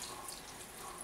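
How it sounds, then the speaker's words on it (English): Cold tap water runs and splashes over freshly drained pasta in a colander while cooking a stir fry at home, a steady close hiss of running water with no talking. "And then I douse it with cold water, just get rid of the starch."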